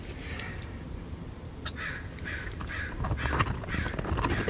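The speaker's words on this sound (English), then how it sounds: "Crows scare me" Crows cawing outdoors, a series of harsh repeated caws at a moderate distance over low background rumble, growing slightly busier toward the end.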